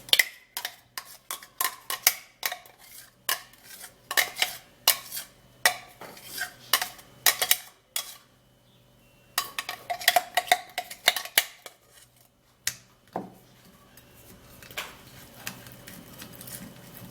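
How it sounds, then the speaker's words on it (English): Onion juice is sieved with a run of quick metallic taps and scrapes of utensil against bowl and strainer, close and fairly quiet, in bursts with a short pause partway through. "So now I'm actually going to be sieving this out because we're actually needing only the juice."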